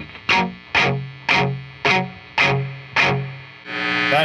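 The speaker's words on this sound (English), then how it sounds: "Let us test the reverb." Six evenly spaced guitar chords through a Marshall JCM800 4210 combo amp's reverb ring out, each struck hard and trailing off in a long, washy reverb tail, followed by a final swelling, shimmering note.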